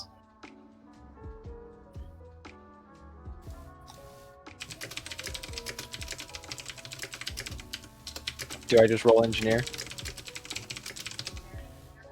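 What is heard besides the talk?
typing on a computer keyboard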